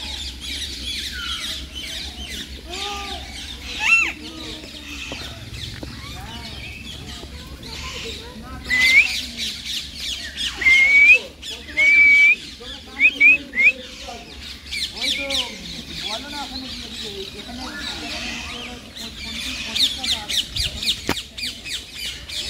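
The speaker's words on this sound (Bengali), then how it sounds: "আর এই হাঁসগুলোকে যে তোমরা দেখতে পাচ্ছ এগুলো বিদেশি হাঁস," Foreign ducks squawk in a series of harsh, uneven calls at a zoo deer park near Uluberia, with other birds chirping and people murmuring in the background.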